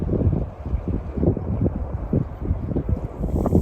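Strong wind gusting across an open mountain trail above Badrinath, roaring and buffeting close against the microphone in uneven low surges with no break.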